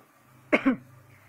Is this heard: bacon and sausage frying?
no